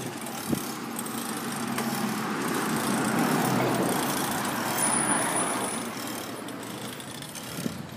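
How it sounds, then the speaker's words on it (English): Steady road traffic on a busy street in Boise, with cars and trucks passing at moderate distance, swelling in the middle as a vehicle goes by, then easing off. "There's just enough traffic to make it an annoying walk."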